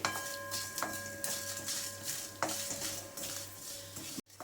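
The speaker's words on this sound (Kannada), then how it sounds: "ಮೂರು ಬ್ಯಾಡಗಿ ಮೆಣಸಿನ್ಕಾಯಿ ಇಟ್ಕೊಂಡಿದ್ದೀನಿ ಅದನ್ನು ಪೀಸ್ ಪೀಸ್ ಮಾಡಿಟ್ಕೊಂಡಿದ್ದೀನಿ ಹಾಕೋತಾ ಇದ್ದೀನಿ" Pieces of Byadagi red chilli go into a hot pan for rasam, giving a steady low sizzle with a few sharp clinks of a utensil against the pan, close and moderately loud, with no talking.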